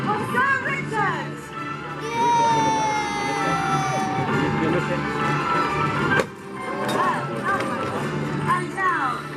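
A crowd at a jousting show in a castle grounds cheers and whoops for a knight, a broad outdoor roar of voices rising for a couple of seconds over background chatter and an announcer's voice.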